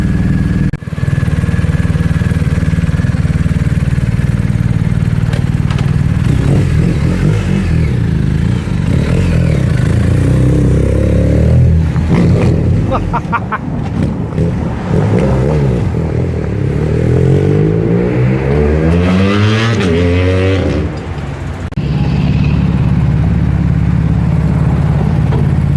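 A 2019 BMW R 1250 GS Adventure with a newly fitted Akrapovic exhaust idles and revs up close and loud, a sustained engine drone with rising and falling revs midway and a brief dip near the end.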